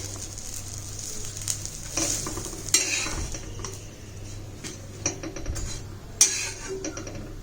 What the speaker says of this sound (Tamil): எல்லா ஸ்லைசஸும் நல்லா ரோஸ்ட் ஆகிடுச்சு